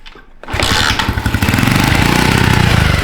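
A DIY snowmobile built from a shopping cart starts up after brief silence: its small engine catches abruptly and settles into a loud, rough, buzzing run close by, with no talking.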